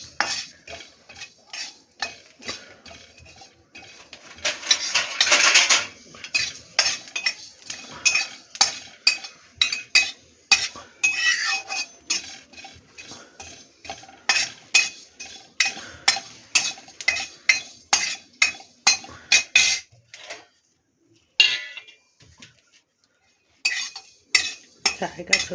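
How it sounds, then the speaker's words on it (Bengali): Dry roasting ingredients for dudh sukto in an ungreased pan: a utensil scrapes and clinks against the metal in quick, irregular strokes, near and fairly loud, with brief pauses between bursts of stirring. "শুকনো খোলায় ভালো করে ভেজে নেব।"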